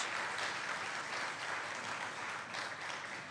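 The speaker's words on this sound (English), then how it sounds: "let's give a round of applause" Steady, dense applause from an audience at a market building dedication ceremony in a historic village, a continuous wash of many hands clapping at even loudness with no voices standing out.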